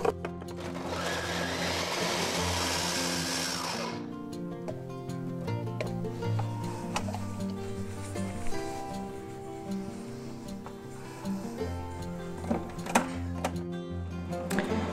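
Large kitchen blender chopping dried fruit with walnuts and lemon: a loud steady motor whine for several seconds, then a lower, uneven grinding churn with knocks and rattles as the pieces break down, no voices.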